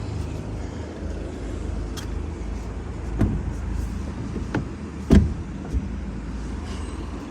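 A 2017 Audi A5 2.0 TDI diesel with automatic gearbox idles steadily in a low, continuous hum, with a few sharp clicks and knocks from around the car over the engine, and no voices.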